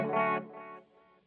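A Boss DD-200 delay pedal on its tape setting repeats a short guitar phrase, a bright first burst followed by softer fading echoes that trail away quietly.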